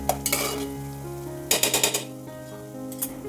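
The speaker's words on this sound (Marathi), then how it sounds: "कांद्याचा कच्चेपणा जाईपर्यंत कांदा छान आता आपण तेलामध्ये परतून देऊया।" Chopped onion and green chillies sautéing in hot oil in a pan, with a soft steady sizzle broken by a few short bursts of stirring and scraping from a spoon against the pan.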